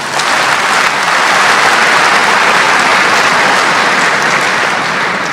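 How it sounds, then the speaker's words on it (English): An audience at a lecture hall event gives loud, sustained applause, a dense wash of clapping that holds steady from start to finish. "I request all the audience to give him a big clap."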